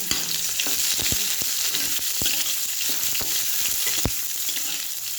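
Half a large onion and bay leaves fry in a pan with a continuous close sizzle, punctuated by sharp taps and scrapes as they are stirred, with no talking.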